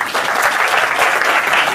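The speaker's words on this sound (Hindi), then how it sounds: "एक बार ताली बजाओ भैया के लिए" Audience at a business seminar in Faridabad clapping for a man, a dense, loud burst of many hands applauding steadily throughout, close and continuous.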